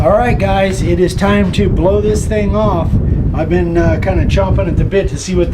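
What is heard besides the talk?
No everyday noises stand out.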